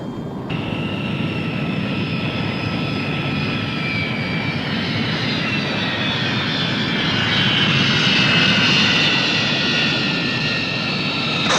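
A jet airliner comes in to land in a 1976 film scene, its steady, loud engine roar and rising whine holding throughout with no talk over it.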